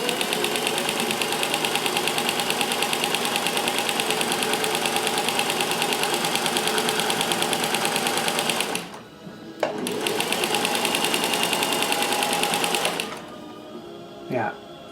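A sewing machine fitted with a walking foot attachment runs in long steady stretches of rhythmic buzzing stitching, stopping briefly twice, with a voice talking lightly near the end.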